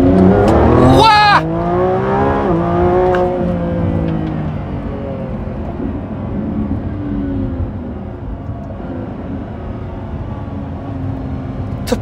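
A Lamborghini Revuelto in performance mode launches at full throttle, its engine roaring up through rising revs with quick gear-change breaks, then settling into a fading high-speed drone, and a passenger exclaims at the start.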